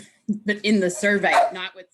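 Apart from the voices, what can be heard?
dogs barking in the background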